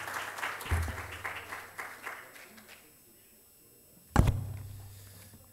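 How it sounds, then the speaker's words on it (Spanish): Audience applause at a Civil Code legal seminar greets an honoured doctor, a steady patter of clapping that fades out by about three seconds, followed by a single heavy thump near the end. "Le brindamos un fuerte aplauso al doctor Mario Castillo Freire."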